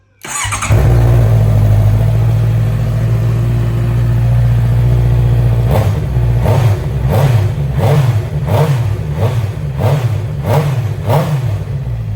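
A 2018 Honda CB650F motorcycle idles loudly up close through a modified stock exhaust, then revs in a series of sharp, rhythmic throttle blips.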